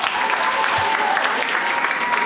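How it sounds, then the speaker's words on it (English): Parents and students at an elementary school music concert give a round of applause for the grade three class, a dense, steady clapping that fills the room without pause. "big round of applause for grade three"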